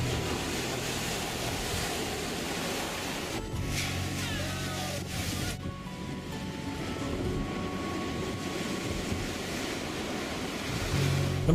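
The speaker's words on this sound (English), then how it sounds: "the storm lashed powerful waves against the coast" Storm-driven waves batter a coastline in a loud, continuous roar of surf and rushing water, with no speech.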